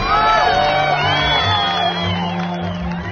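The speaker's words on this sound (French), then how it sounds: "les spectateurs ne cessent d'applaudir et de lancer des fleurs" A theatre audience cheers and whoops at the end of a performance, a dense crowd roar with shouts rising over it, loud and sustained throughout.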